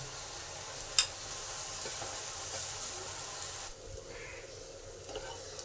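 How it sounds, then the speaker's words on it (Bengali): Chopped onions fry in a pan with a soft, steady sizzle. A single sharp utensil clink sounds early on, and the hiss eases noticeably in the last couple of seconds. "পেঁয়াজটাকে লাল লাল করে ভেজে নেব"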